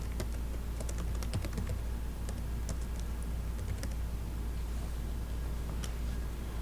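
Close, quick typing on a computer keyboard, with clustered bursts of key clicks over a constant low hum that thin out toward the end.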